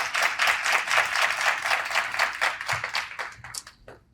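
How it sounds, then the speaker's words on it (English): Applause from a small audience at a women's roundtable, brisk clapping with audible individual claps, fairly close, thinning out at the end. "let's give her a round of applause for her service"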